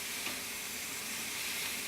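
Chicken in wine in a pan, sizzling and hissing in a continuous, even wash of sound as it is stirred, close up with no talking.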